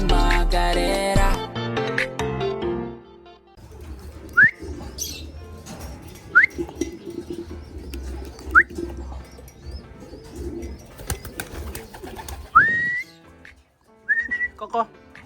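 A hungry young male pet pigeon coos and calls in short repeated bursts at close range, with a few whistled chirps. Music plays at the start and a low murmur runs underneath.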